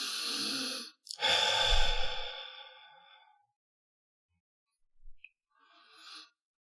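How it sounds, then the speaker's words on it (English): A person breathes heavily, with a long, loud, rough exhale or sigh up close, followed by quieter, brief breaths and a soft final inhale, with no talking. "breathing is also important."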